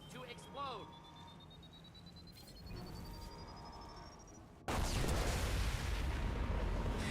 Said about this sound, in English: mini nuke explosion that happens if you shoot the head off of those things